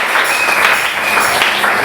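A church congregation applauds during a prayer marathon service, steady dense clapping that fills the whole moment at close range, without voices breaking through.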